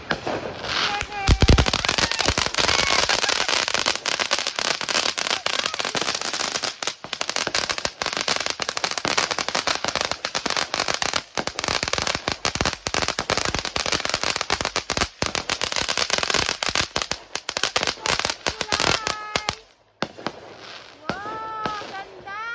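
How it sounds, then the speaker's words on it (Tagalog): Fireworks and firecrackers burst in a dense, continuous crackling barrage at a 4th of July celebration, loud and close, with excited voices cheering and talking over it before the popping thins out near the end. "Fireworks!"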